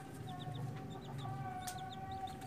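Chickens cluck steadily in short repeated calls against a busy farmyard background, with higher chirps from chicks scattered throughout.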